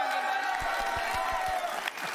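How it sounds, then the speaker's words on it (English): Gamescom 2019 Xbox live stream audience giving a round of applause, steady dense clapping and crowd noise throughout, with a few scattered whoops and a voice faintly audible underneath. "I'm going to ask you for another round of applause"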